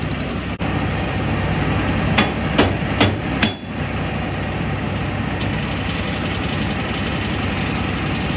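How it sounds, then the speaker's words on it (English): Bent metal on a manure spreader is hammered outdoors: four sharp metallic strikes in quick succession over the steady drone of an idling tractor engine. "I'm gonna have to hammer it out of there."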